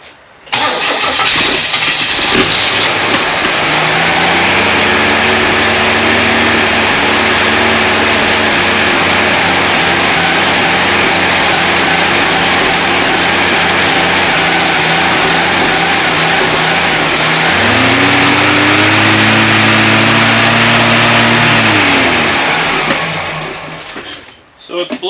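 A Chevrolet Nova engine cranks loudly and steadily for a long stretch without catching, pauses briefly, then cranks again in a second long attempt that still fails to start.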